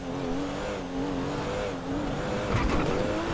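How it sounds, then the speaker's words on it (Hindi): A Honda Civic in GTA 5 races downhill at full speed, its engine droning steadily and loudly, with a brief tire skid or scrape near the end. "अभी बारी पाकिस्तानी होंडा सिविक की। इसको फुल स्पीड में नीचे लेकर जाते हैं।"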